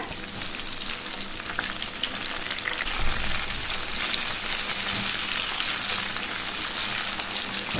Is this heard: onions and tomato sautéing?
yes